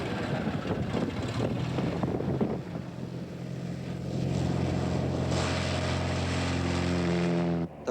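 A propeller airplane in flight, a continuous droning engine with steady tonal hum, fairly close and loud throughout, with no voices.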